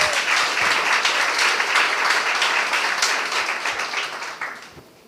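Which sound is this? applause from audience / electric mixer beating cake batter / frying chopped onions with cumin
applause from audience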